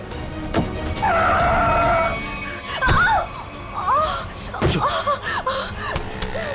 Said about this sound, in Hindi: गाड़ी लड़ जाएगी